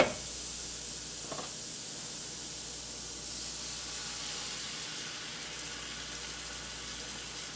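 Water poured into a pan of cooking leeks sets off a soft hissing spray that fades into a quieter, steady steam hiss as it evaporates; fairly faint, with no talking.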